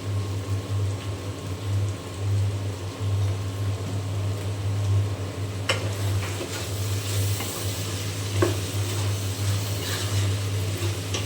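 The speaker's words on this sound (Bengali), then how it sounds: "এখন খুব ভালো করে আমি নেড়ে চেড়ে ভাজিটা করে নেব।" Rohu fish with pointed gourd is stir-fried in a pan with a soft, continuous sizzle and occasional stirring scrapes over a low steady hum.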